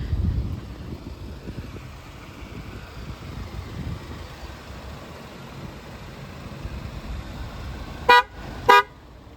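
A BMW xDrive car sounds its key-not-in-car warning as two short, sharp horn toots near the end, following a stretch of low, steady outdoor rumble from the vehicle and surroundings.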